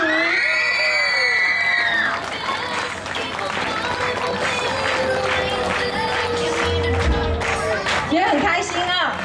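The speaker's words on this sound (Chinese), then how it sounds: "请大家拿出你最热烈的掌声，还有尖叫声" An audience at a dance performance in Tainan breaks into loud applause mixed with high-pitched screaming cheers and whoops, sustained and dense throughout with no words spoken.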